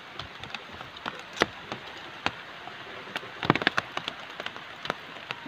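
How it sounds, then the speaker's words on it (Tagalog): Heavy rain falls outdoors, pattering on a nearby surface with scattered sharp drops over a soft, continuous hiss. A few heavier taps stand out irregularly. "ang lakas na ng ulan"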